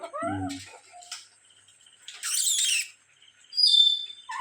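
Rocky, a pet parrot, gives several squawking calls in short bursts with quiet gaps between them, close and fairly loud, with no other sound around them.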